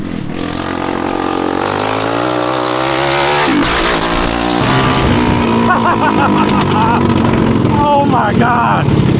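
A cheap mini Jeep fitted with a swapped-in racing engine drives and revs loudly and steadily, its engine note rising and falling close by while people shout and talk over it.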